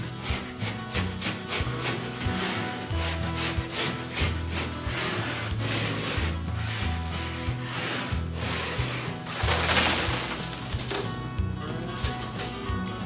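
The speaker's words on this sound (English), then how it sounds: "So you can see that it'll dry scrape too." A scraper on a paint pole dry-scrapes popcorn ceiling texture in repeated rhythmic rasping strokes, a steady back-and-forth scratching close by with no talk.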